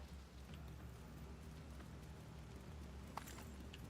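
Steady rainfall in The Division 2 video game patters softly and evenly throughout, with a few sharper drips and faint thuds over a low rumble.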